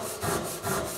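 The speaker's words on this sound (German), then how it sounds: "sägen wir am Riss nach unten bis zum Querriss" A hand saw cuts down a marked line in wood for a mitred mortise-and-tenon joint, rasping in two close, even back-and-forth strokes, loud and alone.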